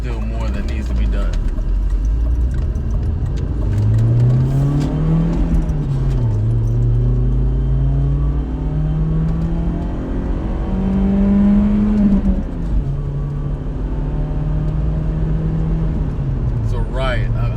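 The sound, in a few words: turbocharged car engine revving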